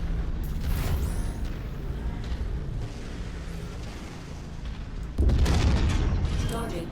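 A destroyed mech blows up in MechWarrior 5 with a sudden loud, close boom that jumps over a continuous rumbling battle din of low thuds and mechanical noise, then holds at a heavy roar to the end.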